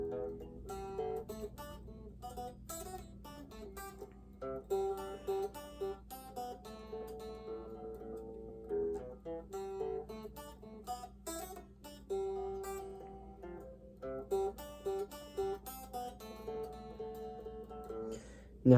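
A guitar playing a riff, fast repeated picked notes in choppy bursts with brief pauses between phrases, quiet and alone with no talking.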